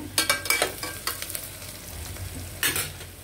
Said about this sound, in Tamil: இப்போ வெங்காயம் வதங்கிடுச்சு.